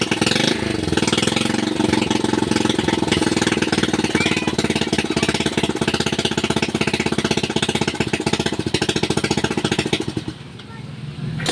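Motorcycle engine running loudly and steadily with a rapid rough chatter, then cutting out abruptly near the end when the high beam is switched on.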